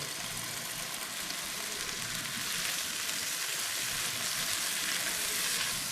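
Garlic and wilting pak choy frying in a hot pan give a dense, even sizzle close by, a continuous crackling hiss with no voices over it.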